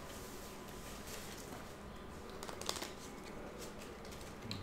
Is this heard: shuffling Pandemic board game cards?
yes